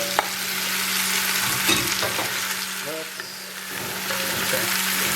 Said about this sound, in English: Once the meat is nicely seared, let's go ahead and add our onions back.